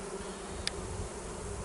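Wild honey bees living in the walls of a château hum steadily around a Layens hive, a close, continuous low buzz with one brief sharper sound.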